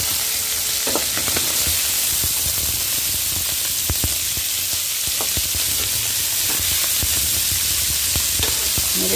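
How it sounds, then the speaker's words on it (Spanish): Beef sizzles steadily in a hot pan with onion, a dense crackle and hiss with scattered pops throughout, close by and continuous. "Acá yo ya estoy friendo mi carne,"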